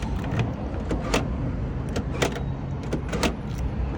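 An Opel Astra G's central locking clunks with quick mechanical clicks and a brief motor whir, heard up close over steady outdoor background noise.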